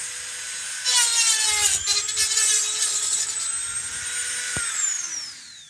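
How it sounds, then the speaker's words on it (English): Dremel rotary tool cutting into a computer motherboard, a high whining grind that starts abruptly and holds for several seconds with a slowly drifting pitch, close and fairly loud, then dropping off near the end. "The Dremel worked. I'm glad it wasn't that loud."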